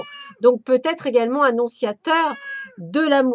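A cat meows repeatedly, with rising and falling cries woven through a woman's French speech, close and fairly loud, the calls overlapping her talking.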